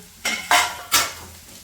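Chammanthi masala is mixed in a pan with three quick, close scraping strokes of a spoon against the metal, each a short, loud rasp.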